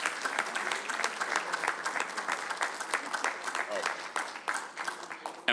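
Audience members at a city council meeting give a round of applause for the police department, a moderate, even patter of clapping with distinct individual claps and faint voices mixed in.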